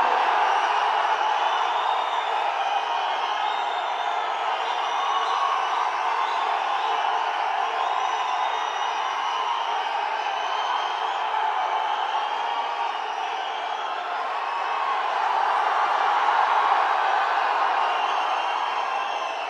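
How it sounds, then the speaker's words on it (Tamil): Large crowd at a Vijay political rally in Coimbatore applauding and cheering in a steady, dense roar of clapping with whoops, sustained throughout and swelling near the end. "இந்த கைத்தட்டல்கள் வாக்குகளாக மாற வேண்டும்"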